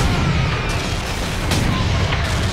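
Dense, loud rumbling blasts from bombs in the Space Marines video game, heavy and continuous with overlapping booms and bursts filling the whole moment, no voices.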